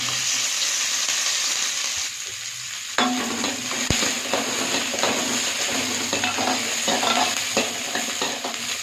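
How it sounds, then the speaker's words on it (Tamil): Shallots and garlic frying in a little oil: a steady sizzle with a brief dip, then louder crackling and scraping stirs against the pan, close and continuous, with no talking. "சின்ன வெங்காயம், பூண்டு ஊற்றிக்கலாம். கொஞ்சமாக எண்ணெய் ஊற்றிக்கலாம்."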